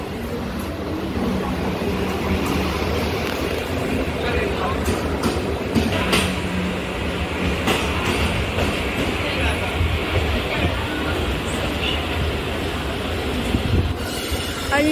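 A Mumbai Harbour Line local train passing on its rails, a loud continuous rumble and clatter of wheels with intermittent squeals and clicks over the full stretch, voices faintly under the noise.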